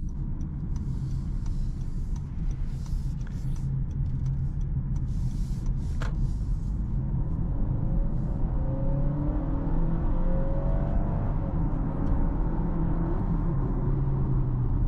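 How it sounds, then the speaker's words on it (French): Inside a Honda ZR-V in sport mode, the engine gives a low, steady hum under road and cabin noise while the car speeds up, fairly subdued throughout with no talk. "On entend un peu le moteur quand on appuie plus fort"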